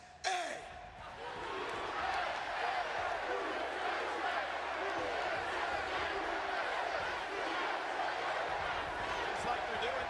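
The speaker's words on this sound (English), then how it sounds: "the crowd is chanting" Video game arena crowd at a wrestling event in Washington's MCI Center roaring and chanting continuously, a dense, loud, sustained wall of voices with a sharp burst at the start.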